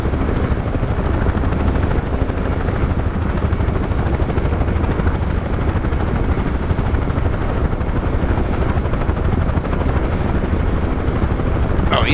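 A UH-1H Huey helicopter with .50 cal door gunners in a video game sounds as a loud, constant rotor and engine drone that stays close and steady throughout, with voices talking faintly over it.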